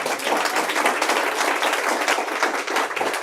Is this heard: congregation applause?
yes